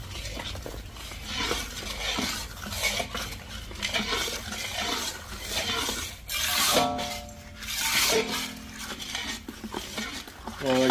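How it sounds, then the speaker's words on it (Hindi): Gram flour mixture for mohan thal being stirred in ghee in a pan, repeated scraping and clinking of a spoon against the vessel in uneven bursts with a soft sizzle, under background music. "अच्छे से मिक्स कर देंगे।"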